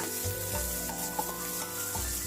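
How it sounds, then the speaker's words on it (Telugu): Mustard seeds, black gram dal, green chillies and onions fry in hot oil for tomato rice, a steady close sizzle with scraping stir strokes and soft knocks throughout. "ఇప్పుడు ఇందులోకి మనం ఆవాలు మినపప్పు వేసుకుందాం తర్వాత పచ్చిమిర్చి వేసుకుందాం తర్వాత ఉల్లిపాయలు వేసుకొని మంచిగా కలుపుకుందాం"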